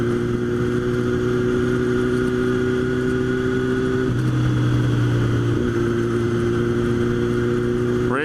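Motorcycle engine held at raised RPM with the clutch pulled in, a steady loud drone whose pitch shifts partway through, alone without talk.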